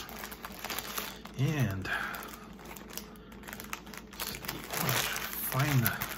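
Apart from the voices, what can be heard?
crinkling plastic packaging of Hostess Donettes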